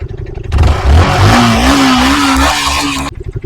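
A 2022 Yamaha R15 V4 sports bike with dual-channel ABS revs loudly close by, its engine note climbing and holding a steady high whine for a couple of seconds before cutting off.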